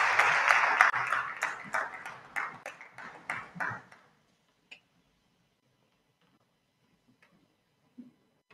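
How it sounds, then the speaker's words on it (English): An audience at a conference on climate adaptation in Africa claps for an arriving speaker, a dense burst of applause that thins to scattered claps and fades out after about four seconds, leaving near silence. "let's give him a round of applause as he makes his way here"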